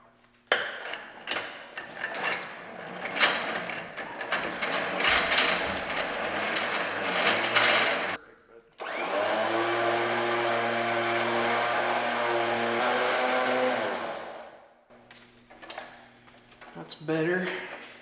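A winch on a Motobilt Stubby bumper runs, a steady loud mechanical whine with gear drone from about nine to fifteen seconds, framed by clattering cable handling and brief handling noise before and after.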